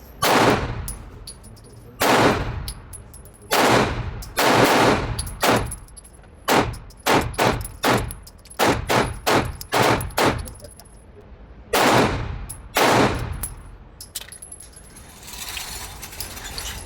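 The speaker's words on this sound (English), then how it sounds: "first 3 magazines, 18 rounds each, and that was at about 10 yards on the last one." Sig P226 X Legion pistol fired at an outdoor range from about 10 yards, loud sharp shots coming singly and in rapid strings across several magazines, with short pauses between bursts.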